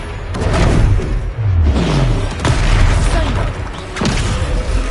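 Confringo blasting spells exploding in the Hogwarts Legacy video game, several loud booming blasts with whooshing tails in a busy fight, one after another.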